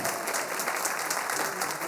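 Dense, steady clapping from a crowd fills the whole brief moment with no pauses.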